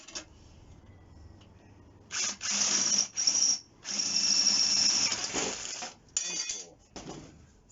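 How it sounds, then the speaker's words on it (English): Drilling holes in household scrap for a homemade compound bow: several short bursts of a whining drill, each starting and stopping, with quiet pauses between, fairly faint. "So that's all my holes drilled."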